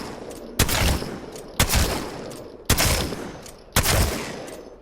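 Four booming shotgun blasts in a video game, spaced roughly a second apart, each a sharp loud crack trailing into a decaying rumble.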